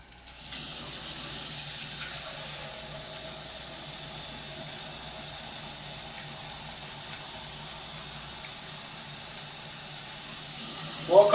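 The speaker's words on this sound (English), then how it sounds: "Get your water ready." Water runs from a kitchen tap in a steady, soft hiss for several seconds while cooking curry chicken, measuring out four cups, ending with a brief louder splash.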